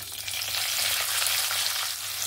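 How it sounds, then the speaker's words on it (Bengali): Chopped onions fry in hot oil with bay leaves in the pan, a dense, steady close-up sizzle without pause and with no voices. "এবার এখানে আমি দিয়ে দেব পেঁয়াজ কুচি,"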